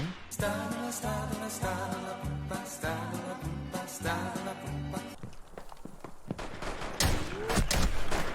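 Rapid gunfire in a shooting video game, with clustered shots over steady rhythmic background music. Later come sharper isolated cracks and clatter, all close and fairly loud, and no one speaks.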